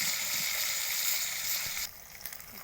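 Fish fries in hot oil with a loud, dense sizzling hiss that drops suddenly partway through, leaving a quieter, crackling fry.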